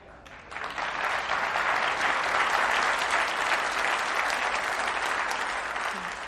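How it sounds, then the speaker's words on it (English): A church congregation applauds during a sermon, a dense, steady wash of clapping that swells in after a brief quieter start and holds loud and even throughout. "Glad you applauded for that."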